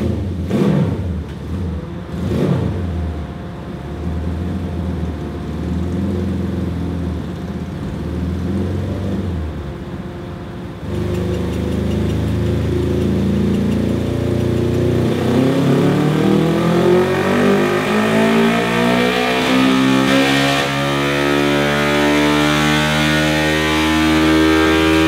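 A 550cc engine in a Little Tikes go kart revs hard on a dyno, loud and continuous. It drones steadily, then climbs sharply through rising pitch sweeps in the final seconds with no talk over it.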